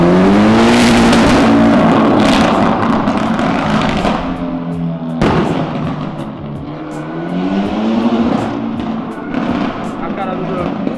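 A sports car downshifting on Avenida Europa gives loud, close engine revs that climb and fall in sweeping waves, with a sharp popping burst midway. Voices can be heard over the engine.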